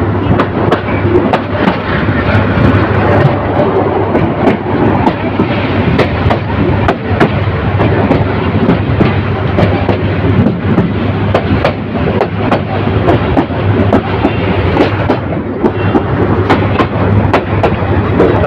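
A passenger train on the Bajitpur to Bhairab line slowly picks up speed, heard from on board as a loud, continuous low rumble with scattered sharp clanks and knocks from the wheels and carriages, and no talking.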